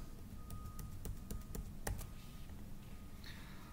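Control and arrow keys pressed on a computer keyboard while working in EMKO PLC programming software: a series of sharp, close clicks in an uneven rhythm, about a dozen taps, over faint room hiss.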